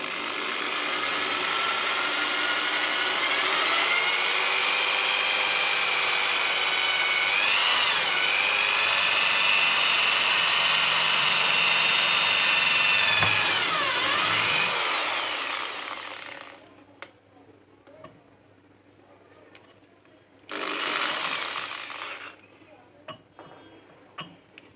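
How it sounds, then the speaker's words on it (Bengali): A drill machine bores holes in transistor heatsinks for an amplifier build: a loud, close, sustained whine for about sixteen seconds with brief pitch dips, then silence and one shorter burst of drilling. "ডিল মেশিন আছে, এখান থেকে আমি যে মার্কগুলো করেছিলাম মার্কের উপর দিয়ে আমি ডিল করবো।"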